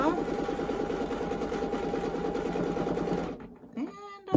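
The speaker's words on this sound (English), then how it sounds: "add some more stitching in here and just keep going around." A sewing machine stitches a quilt, running steadily and close for over three seconds with a fast, even mechanical rhythm, then stopping abruptly before brief handling noises.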